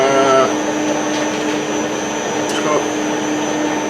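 A metal lathe turns at 175 RPM cutting a thread while an ER32 collet is made. Its loud, steady motor whine and hum hold constant with faint tonal ringing.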